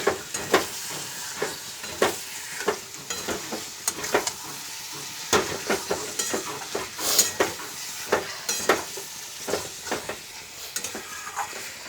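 Spiced chicken for chicken kosha frying in a pan with a steady sizzle, broken by repeated scraping and stirring strokes of a spoon against the metal throughout.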